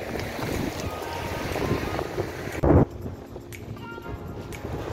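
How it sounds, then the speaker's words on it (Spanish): Wind and sea waves on the coast at Bellavista near Penco, Chile, a constant rushing roar with a brief louder gust buffeting the microphone midway. "el viento, el relajante sonido del mar en esta parte de la costa"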